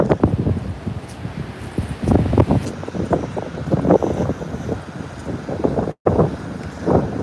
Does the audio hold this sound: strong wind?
yes